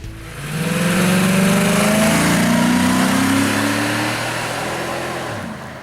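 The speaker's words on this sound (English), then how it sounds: "Alright, so now we are inside the 2006 Cadillac DTS, and on the highway here" A 2006 Cadillac DTS on the highway accelerates with a smooth, rising engine note that swells, holds strong for several seconds, then eases off slightly. The engine sounds close and steady, with no voices.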